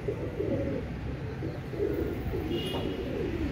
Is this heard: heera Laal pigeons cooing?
yes